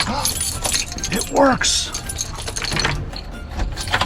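Keys jangle and clink as someone works a door lock in a rented home in Bordeaux, France, in short metallic bursts, with a brief spoken remark over them.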